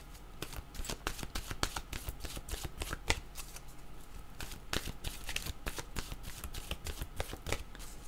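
Oracle cards being shuffled by hand, a quick run of crisp riffling and slapping card sounds in a steady, close rhythm with no talking.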